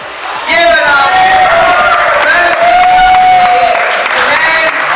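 A crowd at an RC drift tandem competition cheers and whoops loudly, a sustained wash of shouting and applause lasting several seconds, with a voice over a loudspeaker.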